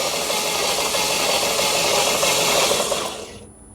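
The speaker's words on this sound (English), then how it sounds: "Go ahead and crank it." A Chevy Cruze engine with zero compression on one cylinder after overheating cranks without starting, a loud, close, steady rapid whir and rattle that runs for about three seconds, then cuts off.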